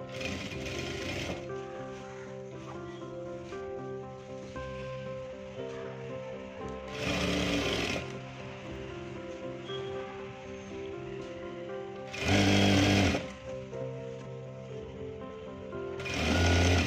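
A sewing machine stitches cigarette pant fabric with a steady, close motor whir and rapid needle chatter. It runs almost continuously, with brief louder surges.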